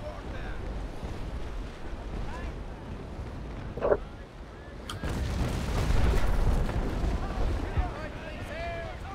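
Naval Action sailing ship running under full sails, with rushing wind and surging water across the hull, a sharp crack midway, and louder swelling sea noise in the second half, with voices underneath.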